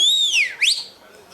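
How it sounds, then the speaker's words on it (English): A single bright, clear whistle slides down in pitch, then sweeps sharply back up, loud and close with no talking. "ఎవరైనా విజిల్ వచ్చారు?"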